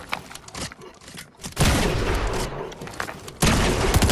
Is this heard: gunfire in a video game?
yes